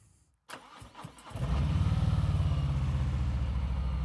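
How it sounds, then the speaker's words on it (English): A Harley-Davidson Street Bob motorcycle engine cranks briefly, then catches and settles into a loud, steady, throbbing idle close by. "we're going to start the engine"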